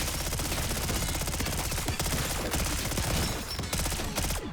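Rapid automatic PBSH gunfire in Black Ops 6 Zombies, a dense unbroken stream of loud close shots lasting several seconds with no pauses.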